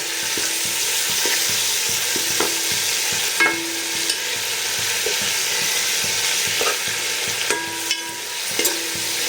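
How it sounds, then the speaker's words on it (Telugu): Ginger garlic paste frying in oil for veg biryani, a constant loud sizzle broken by sharp spatula taps and scrapes against the pan at irregular moments. "ఇప్పుడు కొంచెం అల్లం వెల్లుల్లి ముద్ద, ఇది కూడా పచ్చివాసన పోవడానికి ఆయిల్లో వేసి వేయించుకుంటే బాగుంటుంది."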